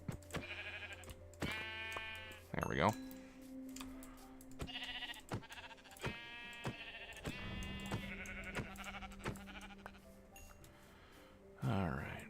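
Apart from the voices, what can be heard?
sheep bleating in the video game Minecraft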